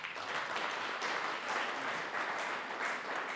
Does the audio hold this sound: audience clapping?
yes